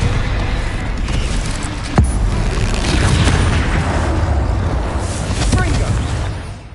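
Spell blasts from Confringo in the Hogwarts Legacy video game boom continuously amid a dense, rumbling game soundscape, with one sharper impact near the two-second mark and shouted spell names layered over the din.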